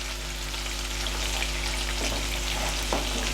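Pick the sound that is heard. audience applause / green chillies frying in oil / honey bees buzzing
green chillies frying in oil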